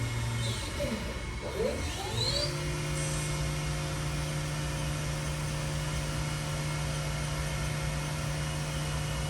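A 2007 Haas VF-2SS Super Speed CNC vertical machining center spindle runs at 9,000 RPM, giving a steady, constant electric whine and hum that stays even throughout, with a brief rising tone near the start.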